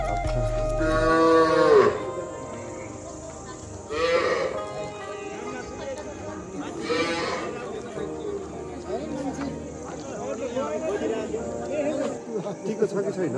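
Cows in a cowshed give several loud, drawn-out moos spread across the stretch, with people chattering nearby and steady background hum.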